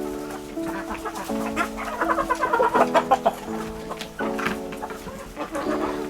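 Aseel chickens cluck in a pen, with layered overlapping calls repeating in short bursts, fairly close and loud, and a denser flurry of clucking midway through.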